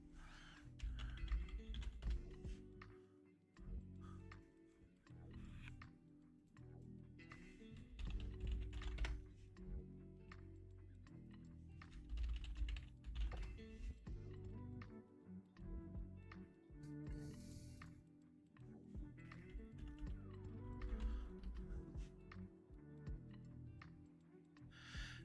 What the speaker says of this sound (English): I'm typing that in and it's not pulling up anything